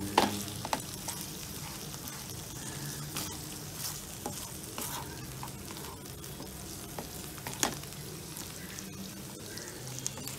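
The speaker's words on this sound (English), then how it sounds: "So we will just mix it up and let it cook for 2-3 minutes in this masala." Hyderabadi biryani masala fries steadily in a pan while being stirred, a dense continuous sizzle broken by occasional scraping clicks of the spoon, close and moderately loud with no talking.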